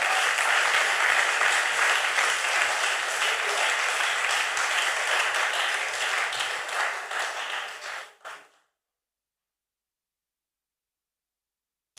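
A church congregation applauding during a French-language service: dense, loud clapping from many hands that holds steady for about eight seconds, then quickly dies away into silence.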